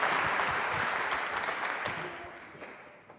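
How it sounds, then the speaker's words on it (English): An audience at the IdeaUp Challenge 2021 final gala applauds a pitch team, a loud, dense wash of clapping that gradually thins and fades, ending with a few last scattered claps. "So please, big round of applause for Psicólogo."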